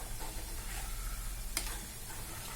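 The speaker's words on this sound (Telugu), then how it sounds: "చక్కగా గవ్వలు వేగుతున్నాయి" Shell-shaped wheat flour gavvalu with jaggery deep-frying in hot oil give off a steady, close sizzle and crackle, with a faint clink of stirring partway through.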